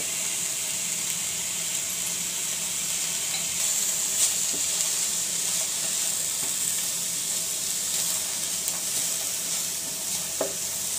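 Shredded cabbage and carrot for momo filling sizzle steadily in a pan, a continuous close frying hiss with occasional soft stirring scrapes and no one speaking.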